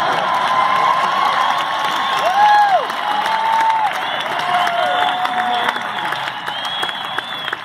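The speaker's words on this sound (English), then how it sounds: "It always gets a good applause, that one." Concert crowd applauding and cheering after a song, sustained clapping mixed with whoops and shouted voices throughout, steady and fairly loud.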